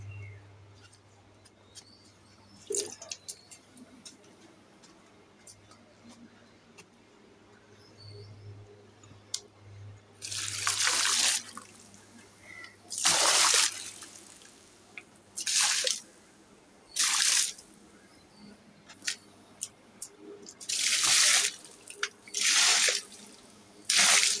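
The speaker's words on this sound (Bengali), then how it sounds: "গাছগুলোতে জল দিয়ে দিই" Water is poured over potted garden plants in a series of loud splashing, gushing bursts, each lasting a second or two with short pauses between, following a quieter stretch of faint drips and background noise.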